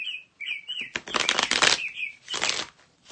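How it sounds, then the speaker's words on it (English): A bird-themed wall clock chirps its hourly bird call indoors: short whistled chirps alternate with bursts of dense rustling, flutter-like sound, fairly quiet and close, with no talk. "That's that bird clock I was talking about. It chirps a different bird every hour."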